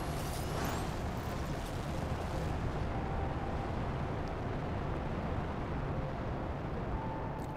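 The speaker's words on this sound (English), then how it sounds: "this should allow us to launch 5 more plants rockets" Plant rockets launching in the video game Planet Crafter, a continuous loud, dense rumbling roar that holds steady throughout, with no talking.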